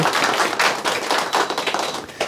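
Audience at a lecture event in Eumseong County, Chungbuk, breaks into a short round of applause, dense close clapping with rapid irregular claps filling the room, no voices over it.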